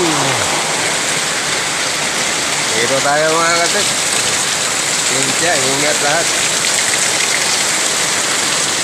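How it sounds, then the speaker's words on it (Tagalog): Heavy rain pours down in a steady, dense roar throughout in flood-prone Marikina, while someone speaks briefly over it near the start and middle. "malakas na naman ang ulan"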